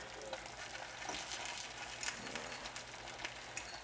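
Onions, peppers and mushrooms fry in a pan with a steady close sizzle and crackle, a few brief stirring scrapes rising over the hiss, no talking.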